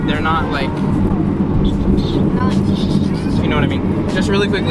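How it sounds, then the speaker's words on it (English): A car engine hums and rumbles steadily from inside the moving vehicle, whose brakes are worn, with road noise close by and people talking over it throughout. "This is what a real engine feels like."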